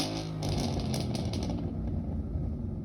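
A Ford Mustang 5.0 V8 engine revs with a deep, loud rumbling burble, swelling early and then settling into a steady throaty growl.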